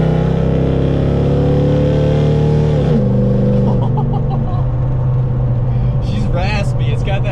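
A Chevrolet Silverado truck fitted with a Corvette-style equal-length Spintech exhaust idles with a steady low rumble, then a throttle blip partway through lifts its raspy engine note before it settles back down.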